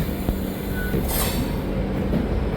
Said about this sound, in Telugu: గుంటూరు రైల్వే స్టేషన్ దాటేసి అయితే మనం వెళ్ళిపోతున్నాము